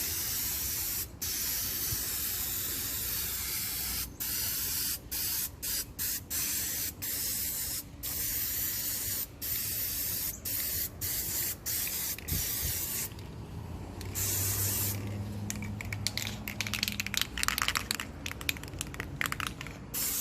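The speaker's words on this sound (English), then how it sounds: "let's give it a good dust coat" An aerosol can sprays a dust coat of black paint onto wheels in repeated short bursts, ending in a longer, denser hiss. A close, steady spray with brief pauses between passes, and no voices.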